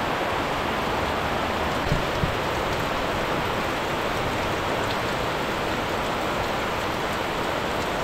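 Rain falls in a constant, loud, broadband wash, an unbroken steady roar of drops with only a faint tap or two standing out, and no voices.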